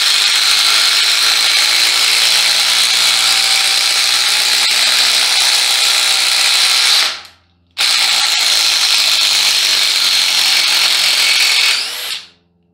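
A cordless power drill, one of a DeWalt Atomic, Ryobi, DeWalt or Hart, running flat out in a speed test, a loud steady high whine that cuts off briefly, restarts, then stops.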